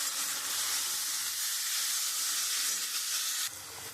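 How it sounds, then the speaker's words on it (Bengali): Potatoes and onions frying in a pan with oil make a loud, continuous close-up sizzle with a soft hiss. It drops a little just before the end, and no one speaks. "আমি আলুটা একটু লাল লাল করে ভেজে নিয়েছি, পেঁয়াজটাও তার সাথে একটু ভাজা হয়ে গেছে।"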